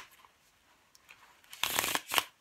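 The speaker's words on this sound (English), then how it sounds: "once you get the cards shuffled and you have the aces out" A deck of playing cards being shuffled by hand, quiet at first, then two loud riffling bursts near the end, with no talking.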